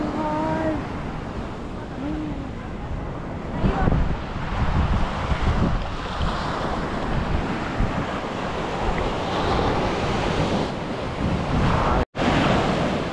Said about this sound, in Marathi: लाटा वगैरे एकदम भारी भारी वाटतंय बीचवरती.